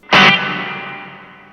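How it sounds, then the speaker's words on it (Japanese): An electric guitar through a Zoom MultiStomp MS-50G plays one loud, slightly distorted note whose reverb tail rings on and fades slowly, set with a long pre-delay. "弾いてからリバーブのこの音が鳴るまでにちょっと時間があるっていうのがプリディレイでございます"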